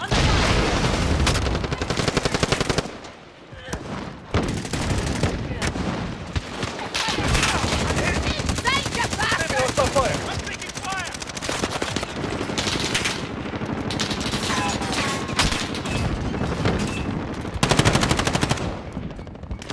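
Rapid bursts of automatic gunfire and booming shots from the Warzone video game, loud and nearly continuous with brief pauses, with game voice callouts heard among the firing.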